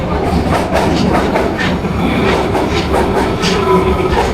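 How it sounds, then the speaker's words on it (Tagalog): A train pulling into a station platform in Osaka, Japan, its steady rumble and clatter of wheels running loud and continuous throughout, with faint voices in the background. "At sa ilang saglit lang ay dumating na nga ang tren"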